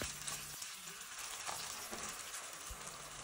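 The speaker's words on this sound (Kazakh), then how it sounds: "Етті әбден қызарғанша қуырып аламыз." Beef frying in hot oil for a Kazakh zhappasai dish gives a steady, close sizzle with soft stirring scrapes and no voices.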